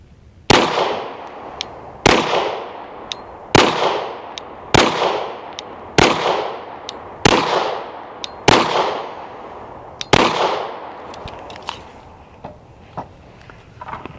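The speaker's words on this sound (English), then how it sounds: "We're gonna do the shooting here." A Canik TP9SF pistol being fired at an outdoor range in a rapid drill from 5 yards, with eight loud, evenly spaced shots, each ringing out and decaying, plus faint clinks of ejected casings.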